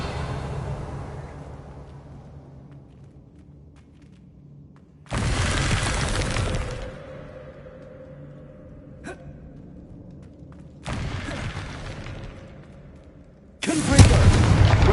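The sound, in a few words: Confringo explosive spell blasts in the video game Hogwarts Legacy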